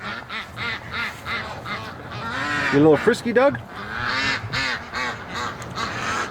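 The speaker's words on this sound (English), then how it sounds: "I'm letting the ducks out" Ducks being let out of their pen give a run of loud, close quacking and honking calls that swell in the middle, while someone speaks briefly over them.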